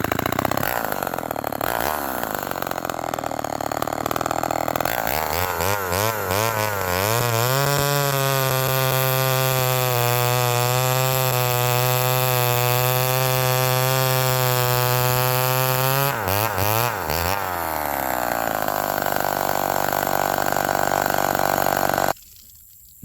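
A Homelite XL 101 chainsaw with a repaired tank vent starts up, then runs loud and close at a steady high rev while cutting hard seasoned maple, the pitch dropping and rising again near the end before it cuts off.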